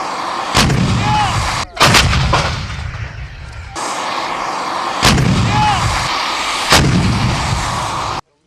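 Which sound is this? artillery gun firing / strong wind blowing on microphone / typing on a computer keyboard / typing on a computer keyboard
artillery gun firing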